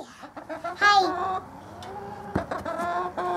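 Chickens cluck and squawk close by on a farm nesting spot, a cluster of loud, clipped calls in a short burst, alone with no talk.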